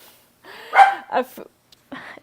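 A few short, sharp dog barks and yips in quick succession, fairly close, with brief pauses between them.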